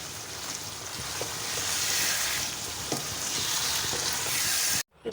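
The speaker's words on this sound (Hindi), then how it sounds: "गोश्त तो मैंने अच्छी तरह फ्राई कर लिया।" Mutton pieces fry steadily in a pan for bhuna gosht, a dense continuous sizzle close up with small crackles and stirring scrapes, cutting off abruptly near the end.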